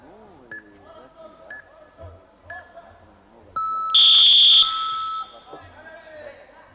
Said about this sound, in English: you'll hear the timer running in the background